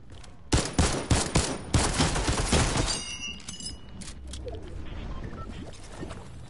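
Gunfire in the video game Fortnite, a rapid burst of closely spaced shots in the first few seconds, loud and near, followed by quieter scattered game sounds.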